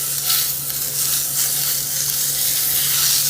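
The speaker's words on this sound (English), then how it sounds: "Deglaze the pan with butter." Butter sizzles and fries steadily in a hot cast iron pan after steak has been cooked in it, a continuous close hiss with faint stirring and no voices.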